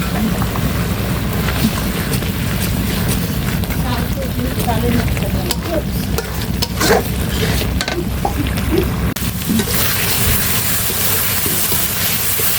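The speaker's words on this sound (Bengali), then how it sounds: "মশলা কষানো হয়ে গেছে এবার মাছগুলি দিয়ে দিই" Spice paste (masala) fries and is stirred in a pan with a loud, steady, rain-like sizzle and scattered scraping, while voices are faintly heard in the background.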